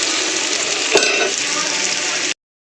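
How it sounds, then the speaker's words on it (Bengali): Onions frying in a pan until reddish, a dense steady sizzle heard close, with a single scraping stir partway through before the sound cuts off abruptly. "চলো আগে পেঁয়াজটা একটু লাল লাল করে ভাজতে দিই।"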